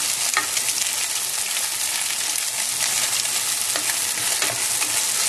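Cooked egg noodles stir-fried for Singapore Hokkien mee, an intense close sizzle with a continuous bright hiss and quick tossing and scraping of a spatula in the pan.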